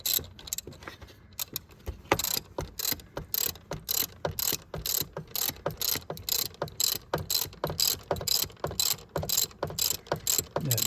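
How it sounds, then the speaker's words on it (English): A ratchet wrench clicks in quick, rhythmic bursts as the oil filler tube is removed from a Chevy Duramax diesel engine, with close metallic clatter and brief pauses between strokes. "we'll start by removing this oil filler tube."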